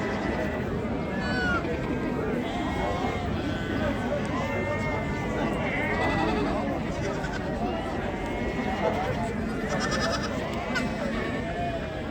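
Goats with their kids and sheep bleat over and over at a crowded livestock market in Ganja, with cries near and far over a constant background of people talking.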